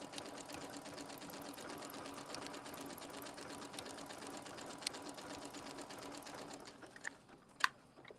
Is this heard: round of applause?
no